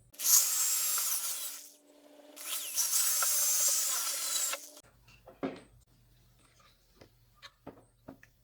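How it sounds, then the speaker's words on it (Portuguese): A jigsaw cutting wood, heard as two loud buzzing runs of the blade through the workpiece, then quieter clicks, knocks and handling noises close by. "quem vai fazer o corte depois vai ser ela, a tico-tico"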